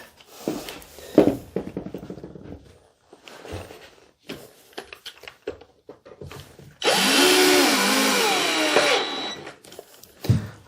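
A power drill drives screws into wood during a houseboat build, sounding first as short stuttering bursts, then as one loud sustained whirring run of about three seconds, with someone talking briefly before and after.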